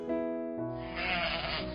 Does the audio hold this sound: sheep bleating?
yes